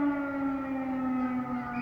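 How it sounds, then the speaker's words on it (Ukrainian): An air raid siren sounding over Saltivka, Kharkiv, a steady sustained wail that holds a level pitch throughout, clear and fairly distant. "знов повітряна тривога лунає."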